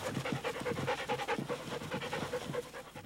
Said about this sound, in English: the Valley is home to some of the finest police dogs in the entire world